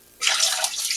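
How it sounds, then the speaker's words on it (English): Water splashes and pours for about a second while a turkey is being cooked, starting abruptly after a quiet moment and running as a bright, close, steady rush. "let me get a little more water, just in case"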